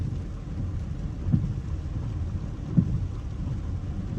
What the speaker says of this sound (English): I did not plan for the rain to occur,